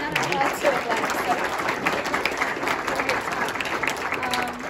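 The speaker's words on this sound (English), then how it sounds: "Let's give another applause to Black." An audience at a Cosyne 2020 neuroscience workshop panel applauds, a steady wash of many hands clapping close and fairly loud for the whole stretch, with no break.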